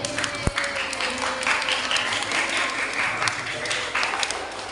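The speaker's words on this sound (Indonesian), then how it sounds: "Tepuk tangan buat kita semuanya." Parents at a school parenting session give a round of applause, moderately loud clapping with some uneven bursts and faint voices mixed in.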